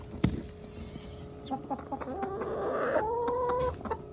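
Hens cluck and murmur nearby in a coop, with a rooster's rising crow-like call toward the end over low background noise.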